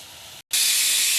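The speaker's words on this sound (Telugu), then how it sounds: "ముల్లంగలండి ఇందులో ఉడికించుకుంటున్నాను" Steam hisses loudly and steadily from a pot of radishes boiling on a stove, breaking briefly for a moment of silence before surging back even stronger.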